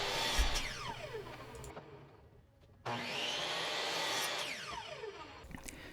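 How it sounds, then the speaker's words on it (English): A chop saw cuts walnut stock against a stop block, two loud whining passes with a quieter lull between, each spinning up and winding down, no voices. "Setting up a stop block on the chop saw, we're now going to cut this into 4 equal parts"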